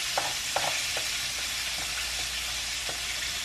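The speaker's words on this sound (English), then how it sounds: "I'm scraping the butter" Butter scraped around a hot pan, a steady sizzling hiss with several short scraping strokes cutting through, close and fairly quiet.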